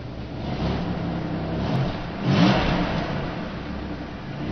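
A 2002 Buick Century engine on its stock exhaust idles, then revs briefly with a swell of rising engine note before settling back, heard up close with no talking.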